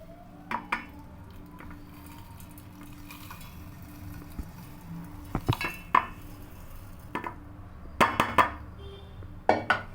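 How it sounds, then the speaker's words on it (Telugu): Cooled roasted spices tipped into a steel mixer grinder jar in a home kitchen, giving quiet scattered clinks and rattles, with a few sharper knocks clustered toward the end. "ఈ దినుసులన్నీ చల్లారిపోయాయి కదా, ఈ మిక్సీ జార్లో వేసుకుంటాను."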